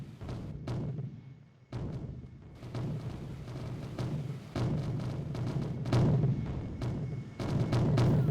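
Anti-aircraft fire rises from an airfield over North Vietnam in the Strike Fighters 2 flight game, a steady roar of dense gunfire with repeated heavy thumps and bursts, continuous and fairly loud.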